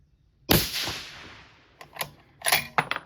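A 6.5 PRC rifle firing a 147-grain ELD-M load with Vihtavuori N560 powder at an outdoor range, one sharp loud report that decays, followed by scattered clicks and clanks of handling the rifle.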